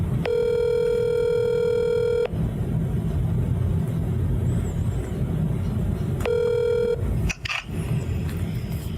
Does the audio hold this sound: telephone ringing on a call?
yes